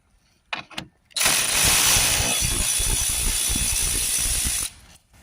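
A 10mm bolt being undone on the front grille of a Ford Transit 2.0 MK8: two brief mechanical clicks, then a loud, close, continuous ratcheting whir from a power ratchet for about three and a half seconds, stopping abruptly.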